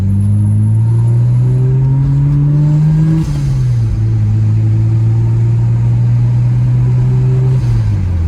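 A Mercedes 3.2-litre M104 turbocharged car drives steadily with a loud, continuous engine drone, the pitch climbing gradually, dipping briefly at a gear change, then holding and dropping again near the end.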